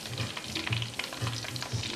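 Artichokes frying in hot oil, a dense, close bubbling crackle that carries on steadily without pause.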